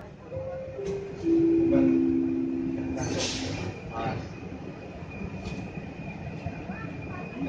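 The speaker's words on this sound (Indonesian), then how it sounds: "Kereta akan diberangkatkan" Rumbling KRL commuter train noise with a few steady tonal squeals and brief bursts, a carriage moving off from a station under a continuous low hum, on the Solo–Jogja line.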